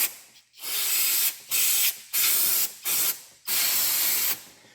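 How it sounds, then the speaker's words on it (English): Brake cleaner sprays onto engine parts of a 2012-2017 Chevrolet Equinox 2.4 during oil leak repair, five or six close hissing bursts of a second or so each, separated by brief gaps, with no voices. "Brake clean."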